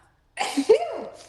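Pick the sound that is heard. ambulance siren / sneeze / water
sneeze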